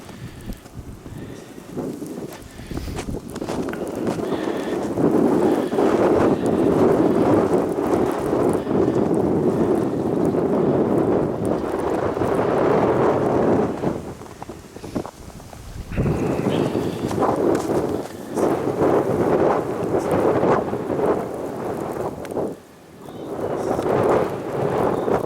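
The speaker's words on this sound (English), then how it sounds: "The wind is really strong." Strong wind roars steadily and loudly through a February 2021 snowstorm in South Holland, buffeting the microphone with gusts that ease briefly mid-clip before surging back; no talking is heard.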